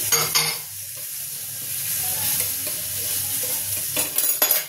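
Whole cumin seeds and chopped garlic fry in hot oil in a pan while being stirred, a steady close sizzle with spatula scrapes and a few light clinks of metal near the end.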